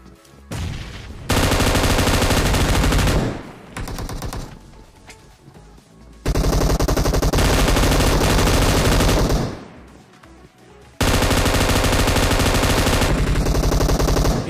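Sustained bursts of automatic gunfire in a shooting video game, loud and close, coming in three long rapid volleys separated by brief quieter gaps.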